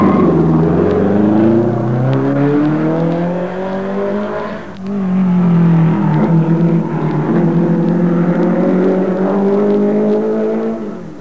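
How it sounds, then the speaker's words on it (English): A 1950s Ferrari four-cylinder Formula One racing car roars at full throttle, its loud rasping engine note climbing through the gears, briefly dipping on a shift, then winding up again. "Hawthorne on a Ferrari sounding like this when he beat the Germans at Barcelona."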